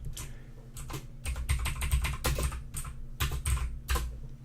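Typing on a computer keyboard while entering a bot's name in Slack: a steady run of close, clicky keystrokes in uneven bursts, with no speech.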